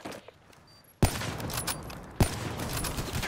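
Video game gunfire in a console shooter: after a quiet start, two loud sharp bursts of shots at about one second and just past two seconds, each followed by a sustained noisy rattle of continued firing.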